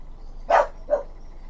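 A dog in the game Skyrim gives two short barks, a louder one and then a softer one, alone over a faint low background hum.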